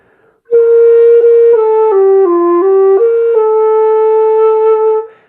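A breathy dongxiao flute plays a short, slow melody, sustained notes stepping down and back up, clear and close with no talking.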